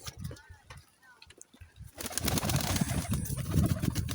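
Soft cooing of pigeons with scattered rustling and movement, then a louder burst of fluttering activity and bird noise in the second half.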